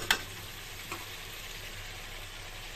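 Katla fish roe curry with potatoes and drumsticks is stir-fried in oil in a home pan. It gives a continuous close sizzle, opening with a couple of sharp utensil clicks, with no talking.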